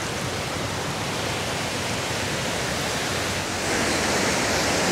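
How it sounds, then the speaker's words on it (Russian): The Todtnau waterfall in southern Germany roars in a steady, dense rush of falling water, loud and continuous, heard alone without voices. "О, какой водопад, нифига себе."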